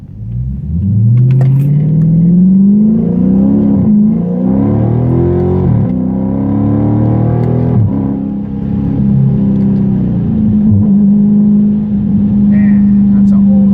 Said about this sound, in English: And then let's paddle shift it.